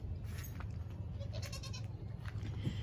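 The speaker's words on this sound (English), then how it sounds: "There's Molly, there's 2 extra goats here." Goats bleat in a barn, several voices calling over a steady low rumble of background noise, fairly close and continuous for a few seconds.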